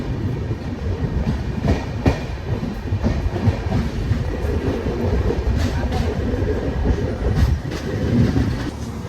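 The Amritsar Express rumbles steadily at Kurukshetra railway station with rhythmic clattering of wheels on track, loud and close, with muffled voices in the background.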